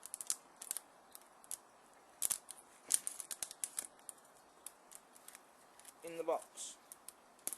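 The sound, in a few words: knife cutting open a cardboard model train box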